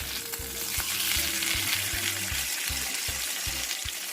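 Pork belly sizzling steadily in a covered pan after being flipped, cooked without water, a dense continuous crackle with small pops and faint low knocks, close and loud, with no talking.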